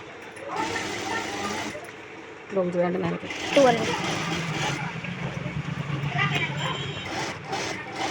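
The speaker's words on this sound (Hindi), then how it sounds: "इसको हमने फोल्ड कर दिया है और इसको इसकी सिलाई चलाएंगे हम" A sewing machine runs in bursts, stitching a folded waistband on an Afghani salwar, with a close whirring hum broken by short pauses while someone talks over it.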